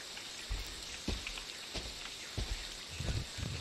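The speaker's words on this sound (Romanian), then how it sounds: "De ce plouă?" Rain in the horror game Friday the 13th, a soft continuous patter with scattered louder drips and thuds, low and ambient, with no one speaking over it.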